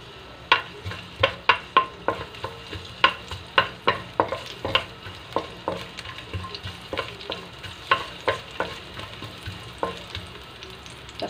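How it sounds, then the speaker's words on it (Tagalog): Garlic sautéing in hot oil in a pan: a steady sizzle punctuated by sharp, regular taps and scrapes of a spatula stirring, close and fairly loud throughout. "Igisa po natin ang ating bawang."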